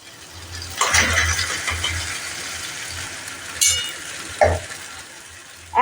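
Thor ghonto, a banana stem curry with gobindobhog rice, stirred in a pan with a little ghee and garam masala; soft sizzling runs under a few sharp scrapes of a spatula against the pan, with no talk.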